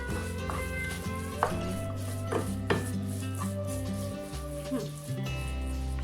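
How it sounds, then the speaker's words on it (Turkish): Soft scraping and occasional knocks of a utensil stirring rested semolina halva in a pan, steady and close, with a low background hum and a voice speaking briefly. "Güzelce şimdi karıştırıyoruz."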